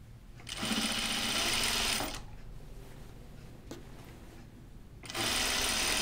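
A sewing machine stitches a caftan neckline in two fast, steady runs, close and loud, separated by a quieter pause of handling.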